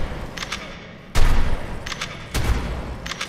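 Gunfire in a video game as the player shoots dinosaurs, with loud bursts of automatic shots cracking out in two heavy volleys and lighter shots between them, no talk.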